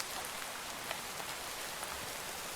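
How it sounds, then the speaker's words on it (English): Steady spring rain falls in Minecraft, a dense, even hiss of countless drops with no talking, constant and moderately quiet throughout. "The spring rain is so refreshing."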